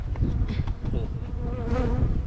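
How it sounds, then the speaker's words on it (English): Italian honey bees buzz at a beehive in a honey bee garden in Hatta, Dubai, a dense close-up drone of many wings with individual bees flitting past. "here, this one is all Italian bees."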